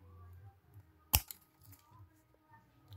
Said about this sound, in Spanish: Tengo mi tijera de podar. Entonces le cortamos un pedazo.